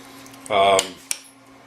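Spoon scraping and clinking against a bowl while Greek lentil soup is stirred together with bread, one short loud burst of mixing followed by a single sharp clink, close by with no talk.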